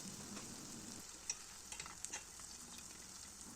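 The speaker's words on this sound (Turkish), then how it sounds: "Diğer hamurları kızartmaya devam ediyorum." Pişi dough pieces frying in hot oil in a pan, a steady faint sizzle with a few small pops and crackles, no voices.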